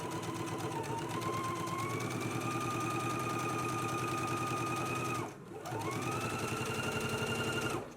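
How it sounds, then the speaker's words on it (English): A sewing machine edge stitches and top stitches along the center front of a dress. The hum is close and steady with a rising whine, then breaks off briefly and starts again. "let's go ahead and do our edge stitch and our top stitch now along the center front"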